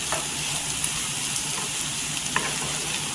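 Potatoes sauté in a pan with a loud, constant sizzle, and a spoon stirring and scraping now and then, up close.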